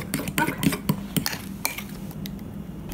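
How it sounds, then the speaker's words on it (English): Keto muffin batter stirred in a bowl with a utensil, giving close, repeated clinks and scrapes against the bowl in an irregular rhythm, with no talking. "So just stir until it's all"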